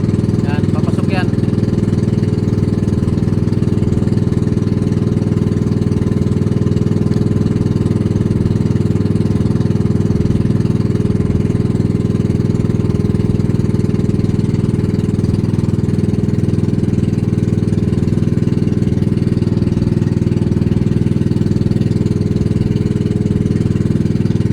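A bangka motorboat engine drones loudly and steadily as the boat comes in, a constant low throbbing hum that holds unchanged for the full length.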